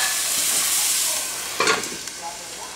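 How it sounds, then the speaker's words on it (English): Water hitting a hot pan gives a loud, steady steaming sizzle as a lid goes on to melt cheese, followed by a brief clatter and a quieter hiss as it settles. "We're going to put a little bit of water on the pan to create steam and then throw the lid on top."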